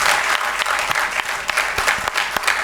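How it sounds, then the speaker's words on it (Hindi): Lively applause from the audience at an Urdu poetry mushaira in Dubai, a dense burst of clapping with sharp individual claps standing out, sustained and loud for the whole short stretch. "आप सबकी भरपूर तालियों में"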